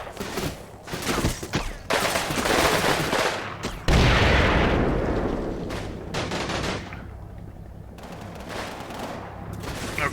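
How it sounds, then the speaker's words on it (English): Tank in Combat Mission Red Thunder firing at infantry: a ragged mix of loud gunfire and heavy booms, one strong blast near the middle and a fading rumble afterward. "the tank is firing at my inf, which I sent here to flank to a degree"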